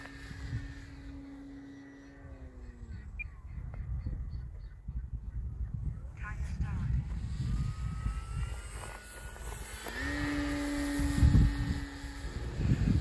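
A radio-controlled Dynam Waco model biplane flying outdoors, its electric motor whine rising and falling in pitch as it passes, with wind noise and rustle around it.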